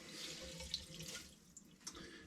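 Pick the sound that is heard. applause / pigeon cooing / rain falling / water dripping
water dripping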